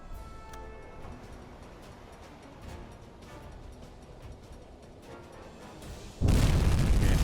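In a U-boat submarine video game, a torpedo strikes a ship with a sudden loud, broad explosion near the end, after several seconds of quiet ticking and low ambient rumble.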